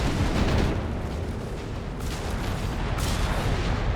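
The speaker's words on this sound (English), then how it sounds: "Jugger's unleashing a heavy barrage there towards the eastern victory point" Heavy artillery barrage pounding a battlefield in Company of Heroes 3, a dense continuous rumble of overlapping booms with a loud opening surge and renewed blasts later, no voices.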